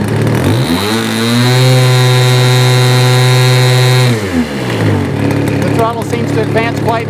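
OS 160 FX model airplane engine revving up smoothly from idle to a loud, steady high-pitched whine, holding a few seconds, then dropping back down to a rough low idle, close by.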